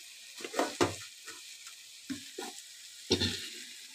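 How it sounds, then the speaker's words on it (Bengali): Boiled chow mein noodles for a soybean chow mein drop into a hot pan in several short, close bursts of sizzling and tossing, with quiet gaps between each handful. "চাউমিন যে সেদ্ধ করে রেখেছি সেই চাউমিন সেদ্ধটা এর মধ্যে দিয়ে দিচ্ছি।"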